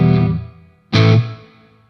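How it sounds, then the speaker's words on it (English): Electric guitar run through a Mooer R7 reverb pedal on its studio reverb setting: a short strummed chord that rings and decays, then a second louder chord hit that swells with a roomy tail before fading. "Let's check out one, studio reverb."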